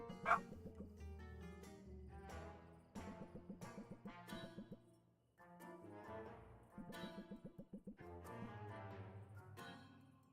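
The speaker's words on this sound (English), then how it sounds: "I apologize about the dogs." Several dogs bark, yip and whimper faintly in the background, a run of short, repeated whiny calls and barks in uneven bursts.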